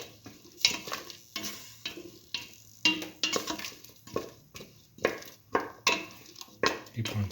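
Potato and coconut stir fry with a ground coconut-ginger mixture gets mixed in a pan, rhythmic close scraping strokes of the spoon over a soft sizzle, repeating in short bursts.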